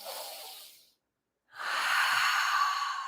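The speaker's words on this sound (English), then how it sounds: "one of the first things you can do is diaphragmatic breathing, deep belly breathing" Deep diaphragmatic belly breathing, heard as a soft airy inhale, a pause of silence, then a longer, stronger, close breath with a slight hiss, with no talking.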